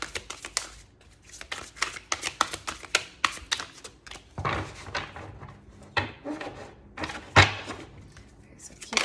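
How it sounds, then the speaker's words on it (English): Oracle cards are shuffled and pulled during a pick-a-card reading, giving close, sparse taps, snaps and papery rustles with short pauses between them. "let's pull out a few more cards"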